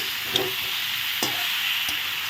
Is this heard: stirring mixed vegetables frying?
yes